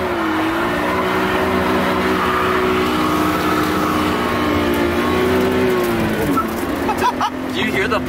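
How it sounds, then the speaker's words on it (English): A Nissan R32 Skyline engine drones steadily and revs up and down while doing donuts, loud and continuous close by, with a brief rising rev near the end and voices under it. "Should we try and do a donut with actual power now?"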